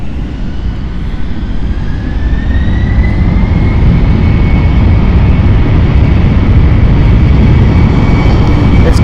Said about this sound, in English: This could be our Milan flight. Yes it is, this is the Milan flight. British Airways City Flyer.